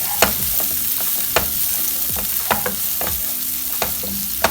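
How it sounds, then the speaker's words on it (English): Chopped onions fry in a hot pan with a steady close sizzle, punctuated by several sharp stirring clanks at regular intervals. "We're going to fry this until it gets nice and translucent."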